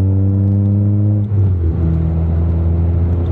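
A loud car engine rumbles close up, then revs with rising harmonic tones before settling into a heavy idle, with no talking.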